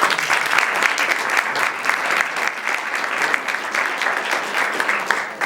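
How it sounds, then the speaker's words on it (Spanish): Audience at a talk by two foreign correspondents applauding steadily, a dense, even wash of many hands clapping that holds at moderate loudness throughout. "Así que a Nina un aplauso."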